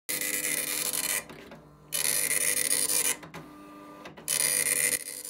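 A Star NP10 dot matrix printer prints in loud, close bursts of harsh buzzing, stopping and starting with short quiet gaps between passes.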